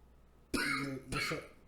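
Two harsh coughs close to the mic, the first longer and the second shorter after a brief pause, with quiet background and no talking.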